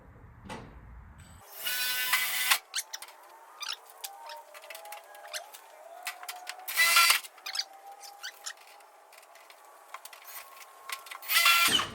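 A power drill whirs in several bursts with pauses and clicks between, close and fairly loud, with faint birds in the background.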